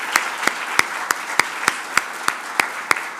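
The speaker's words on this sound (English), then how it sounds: "One round of applause for the 3 award winners." Audience at an annual general meeting awards ceremony claps for award winners, a sparse, evenly spaced round of about ten distinct claps over a soft background.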